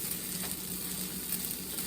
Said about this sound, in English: So the pancakes are cooking.